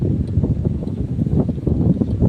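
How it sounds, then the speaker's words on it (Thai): Strong wind buffets the microphone outdoors, a close, low, gusty rumble that fluctuates continuously throughout. "ลมก็แรงครับวันนี้ แรงมากเลยครับ"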